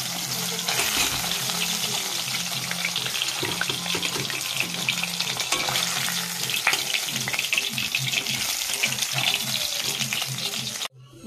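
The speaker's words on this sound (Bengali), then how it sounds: "মাছটা ভাজা হয়ে গেছে, তুলে নেবো এবারে" Rohu fish frying in oil gives a loud, continuous close sizzle with crackling spits and a few stirring knocks. A faint background hum sits beneath it, the sound cuts off abruptly at the end, and there is no speech.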